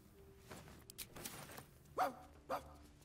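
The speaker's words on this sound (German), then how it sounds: "Warum wufft der Hund eigentlich?" A dog in the video game Baldur's Gate 3 gives two short, clear woofs late in the scene, set among soft game ambience and faint footsteps and clicks.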